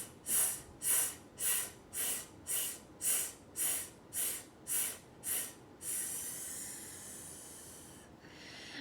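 Pulsed breathing exercise in a vocal warmup: about ten short, rhythmic forceful breath pulses in a steady beat, then a longer sustained exhale and a brief inhale, close and breathy with no talking.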